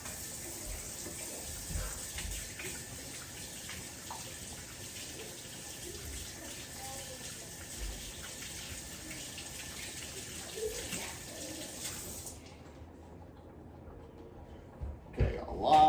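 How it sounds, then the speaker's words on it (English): Running tap water streams steadily while hands are washed during turkey prep, a broad wash of splashing that cuts off abruptly near the end, followed by a few faint knocks. "wash my hands"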